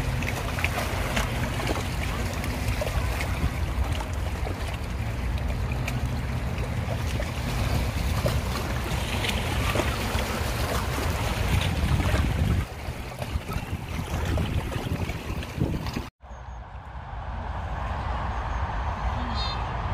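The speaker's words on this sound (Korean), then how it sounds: "물소리가 너무 시원하게 들려서 영상에 또 담아봤습니다" Water of the Han River splashes steadily like waves, a continuous close wash that carries on for most of the stretch before a brief cut and a softer, airier section of rushing water.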